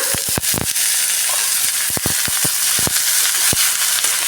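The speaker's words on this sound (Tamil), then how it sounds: "வெங்காயம் நல்லா வணங்கிருச்சு இப்போ நம்ம வாழைப்பூவை ஆட் பண்ணிக்கலாம்" Chopped onion and banana flower sizzle steadily in a hot pan, a loud continuous frying hiss broken by sharp crackles and pops, with no one speaking.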